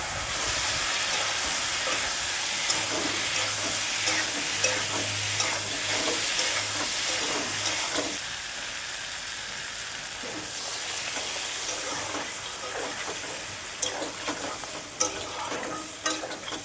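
Potato and pointed gourd with a little sugar stir-fried in very little oil, a soft continuous sizzle with repeated scraping and stirring of the pan, close and without talk.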